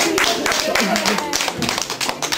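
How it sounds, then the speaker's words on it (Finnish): Lively clapping from a children's audience at a theatre museum show, with individual claps fairly close and voices and chatter mixed in. "Antakaa oikein raikuvat aplodit"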